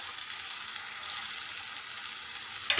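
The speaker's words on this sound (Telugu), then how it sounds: "టమాటా చుక్కకూర బాగా ఉడికేదాకా ఫ్రై చేసుకోవాలి" Tomato and chukkakura greens frying in a pan give off a steady, even sizzle and crackle that holds at one level throughout, close by and with no voices.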